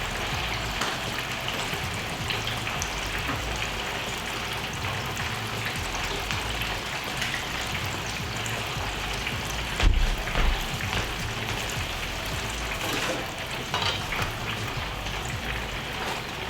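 Catfish nuggets deep frying in hot oil, a steady loud crackling sizzle that continues for the whole stretch, with a brief louder disturbance partway through.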